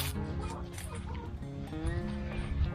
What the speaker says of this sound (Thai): ไก่ก็มี